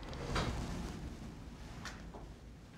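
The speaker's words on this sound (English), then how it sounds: "And close the door behind you." An office door being closed: a dull knock and a softer second bump set against quiet room tone, with no talking.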